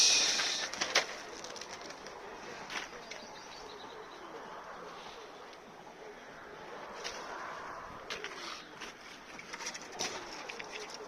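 Young pigeons from a pigeon loft, with soft cooing and occasional chirps over a quiet outdoor background, faint and fairly distant, plus a brief flurry of sharper sounds near the start.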